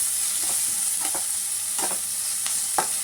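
Ginger garlic paste and turmeric frying in a pan for egg curry, with a continuous close sizzle and a few soft spatula stirs scraping through it, no voices.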